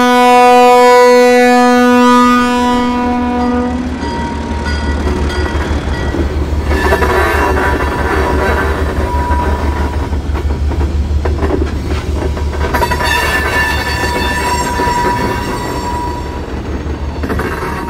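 An ALCO diesel locomotive train running on street tracks, opening with a loud horn blast, then a heavy, steady engine drone with rhythmic rumbling and squealing wheels for the rest of the stretch.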